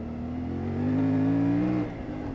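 CFMoto 450MT motorcycle riding on the road, the engine note climbing under acceleration then easing off, a short smooth whine at moderate volume.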